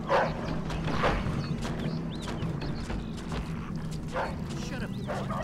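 Dog barking in the game Mafia II, several sharp barks spread across the clip, heard amid steady background game noise.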